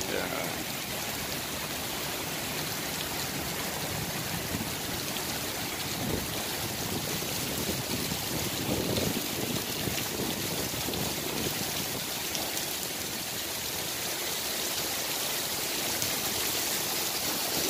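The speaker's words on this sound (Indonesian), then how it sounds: "Tambah besar hujannya, bro." Heavy rain pours down at a harbour, a steady broadband hiss of water with boat and port ambience beneath, continuous and fairly loud throughout, with occasional indistinct voices in the background.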